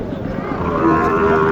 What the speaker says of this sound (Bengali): এই গরুটা কেমন